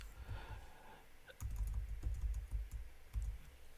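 Fingers type a web address on a computer keyboard and press enter: a soft burst of clicks, a brief pause, then a steady run of close, fairly loud key taps with a firmer final stroke, no voices.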